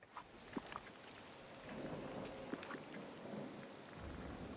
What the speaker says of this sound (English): If it could stop raining, that'd be fantastic.